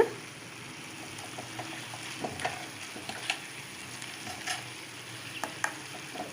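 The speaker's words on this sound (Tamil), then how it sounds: "இப்போ ஓப்பன்லேயே ஒரு அஞ்சு நிமிஷம் அளவு நம்ம கலந்து விட்டுகிட்டே இருக்கலாம்" Cooked jackfruit seeds stirred in an open pan for a jackfruit seed poriyal, a steady low sizzle broken by scattered light scrapes and clicks of the spoon against the pan, close and fairly quiet, with no talking.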